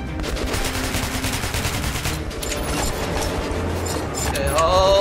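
Rapid automatic gunfire in the video game Metro 2033, loud dense bursts of shots running continuously, with mechanical clatter and a brief tonal sound near the end.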